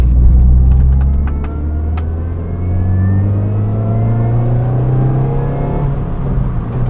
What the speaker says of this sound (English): they also lost the craziness and the noise of the supercharger